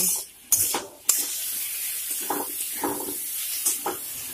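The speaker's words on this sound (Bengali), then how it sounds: "এরপর সবগুলি উপকরণ একসঙ্গে নেড়েচেড়ে ভেজে নিতে হবে" Spiced pumpkin and potato frying in a pan, stirred with a utensil: a steady close sizzle and hiss broken by several sharp scraping clacks as the pieces are turned.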